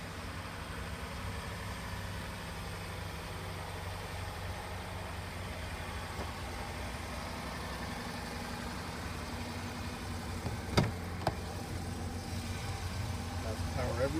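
A 2012 Jeep Grand Cherokee Overland 4x4 idling after a remote start, a low, steady engine hum running throughout, with a couple of brief clicks and light sounds near the end.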